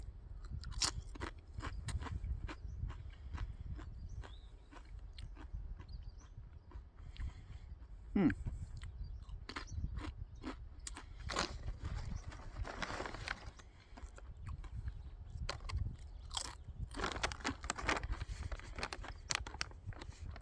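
Crisp crunching of Downriver Chip Co. pico de gallo tortilla chips being chewed close up, with irregular bites and quiet pauses.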